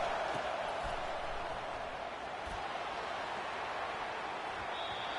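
A stadium crowd at a football game keeps up a steady, continuous roar throughout, fairly loud and unbroken, as fans urge on their defense during a big down.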